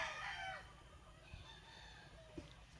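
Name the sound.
gamefowl rooster crowing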